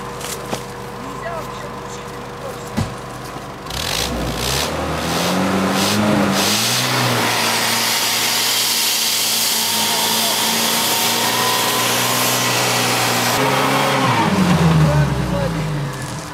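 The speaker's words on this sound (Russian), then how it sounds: "Отъедь быстрее, ты на глушитель сел!" A car engine revs hard in a forest after the car has sat on its exhaust, rising into a loud, sustained roar with tire noise as it pulls away, while people talk over it.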